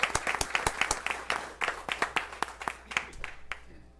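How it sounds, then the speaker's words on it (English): A small group claps at a city council meeting in Yukon, Oklahoma, sparse and distinct hand claps in an uneven rhythm, fairly close and moderately loud, thinning out and ending near four seconds. "Let's hear a warm round of applause."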